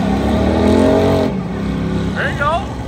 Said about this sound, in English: first maiden voyage in the burnout bit for AJ.